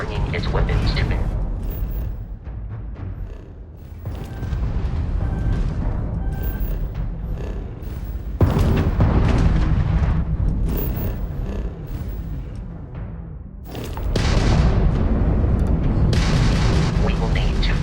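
Crimson Fleet ship weapons firing during Starfield space combat, with heavy booming blasts and rumbling volleys that come in loud, sustained waves broken by brief lulls, over game voice and effects.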